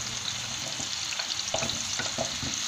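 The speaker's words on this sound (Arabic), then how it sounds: "تسخن شويه الزيت، ونبداو نقلو في هذيك الكابويا تاعنا" Salted kabocha pumpkin pieces frying in hot oil in a pan, giving a steady, close sizzle with a few soft stirring knocks and no talk.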